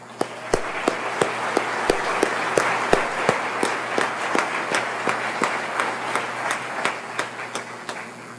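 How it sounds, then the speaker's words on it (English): Audience applause at the 2017 Stockton State of the City address: sharp claps ring out one after another over a steady background, none spoken over. "I do want to take a moment just to give a round of applause"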